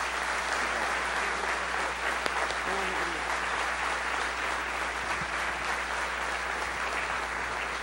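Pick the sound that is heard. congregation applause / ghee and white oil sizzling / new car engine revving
congregation applause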